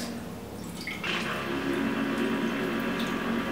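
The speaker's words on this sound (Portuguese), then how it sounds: "Esse barulho é a vizinha tomando banho" Water from a neighbour's shower runs in a steady, even hiss with faint dripping, heard at a distance indoors and continuing alone throughout.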